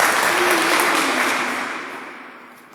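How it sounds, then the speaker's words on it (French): Church congregation applauding, a dense wash of many hands clapping that gradually fades over a few seconds, with no voices over it. "Acclamons-la."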